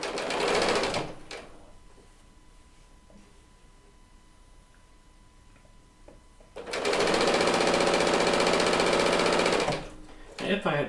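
A serger stitching quilt top seams runs in two steady bursts, a brief one at the start and a longer, loud, even run later, with a quiet stretch of faint handling noise between.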